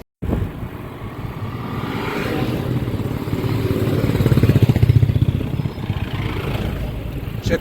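Motorcycles approach and pass close by, their engines droning and rising to a louder peak midway before easing off.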